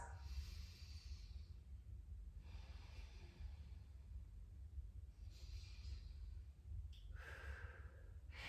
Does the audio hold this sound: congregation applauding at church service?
no